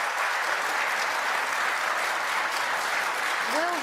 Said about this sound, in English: Why are they clapping?